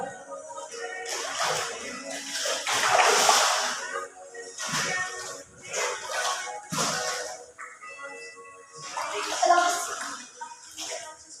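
Running water gushes and splashes in uneven bursts, some loud and close, with quieter gaps between them.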